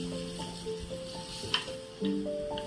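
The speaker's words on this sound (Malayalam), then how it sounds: "ചട്ടി ചൂടാവുമ്പോൾ വെളിച്ചെണ്ണ ഒഴിച്ച് നമുക്ക് സവാള വഴറ്റിയെടുക്കാം" Sliced onions sizzle and sauté in hot coconut oil in a pan for a Kerala-style fish roast, a steady moderate hiss with a brief stir-scrape, no one speaking.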